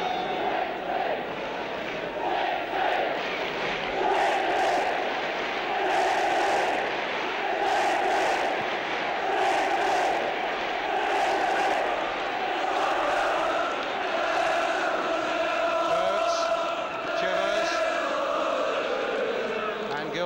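Football crowd at the Norwich versus Tottenham League Cup final, a dense, steady roar of massed voices rising and falling in rhythmic chanting waves, filling the stadium throughout.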